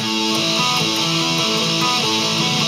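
Electric guitar playing a riff, notes held down and left ringing so they sustain and blur together, loud and steady with no talking.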